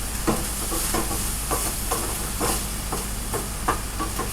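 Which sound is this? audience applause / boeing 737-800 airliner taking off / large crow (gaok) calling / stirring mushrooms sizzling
stirring mushrooms sizzling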